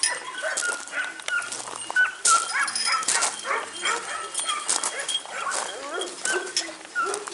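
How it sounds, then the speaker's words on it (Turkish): Several Kangal dogs at a dog farm bark, yip and whimper in a continuous excited chorus, close and loud, with people talking underneath. "bir yaklaşık 10 tane falan serbest dişi köpeğimiz var"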